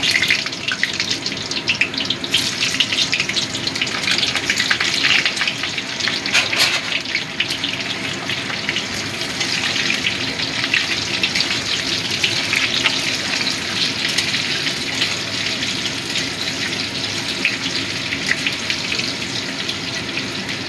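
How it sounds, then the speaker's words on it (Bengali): Potatoes fry in hot oil in a home kitchen, a loud, steady, close sizzle that holds evenly throughout with no talking. "এবার আমি প্রথমে আলুগুলো ভেজে নেব"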